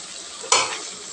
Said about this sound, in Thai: ตำลึงเราเปิดไฟแรงผัดได้เลยครับ